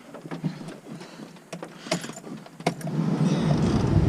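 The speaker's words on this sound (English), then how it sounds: "Let's start her up." A key jingles and turns in the ignition of a Honda CRX, with light metallic jangles and clicks, then the engine catches around two and a half seconds in and settles into a steady rising hum inside the car.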